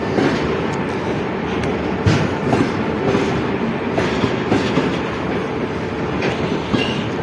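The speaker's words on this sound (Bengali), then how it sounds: "বিরাট বড় একটা মালগাড়ি ট্রেন" A long freight train of about a hundred wagons rolls past close by in Russia, steady heavy rumble with rhythmic clickety-clack of wheels over rail joints.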